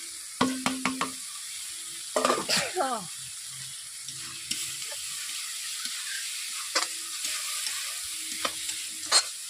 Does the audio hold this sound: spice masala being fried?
yes